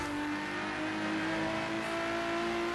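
A slammed Quartz Regalia in Forza Horizon 3 holds a steady high-revving engine drone at launch, loud and continuous with a sustained whine and no speech.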